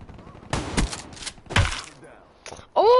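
Gunfire in Call of Duty 3 comes in a few short bursts of shots separated by gaps, moderately loud and close, followed by a brief electronic tone near the end.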